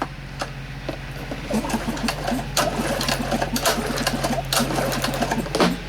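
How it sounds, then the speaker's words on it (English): Repeated pull-starting of a Kawasaki GO550A small engine, with a rapid rattling mechanical cranking and a steady hum, without catching into a clear run. "we're gonna give her a few little pulls here"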